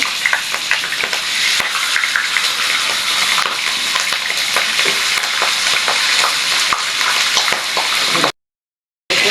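Beef roast pieces frying in oil, heard as a loud, continuous sizzle with crackling spatters throughout, close up and without voices, ending abruptly.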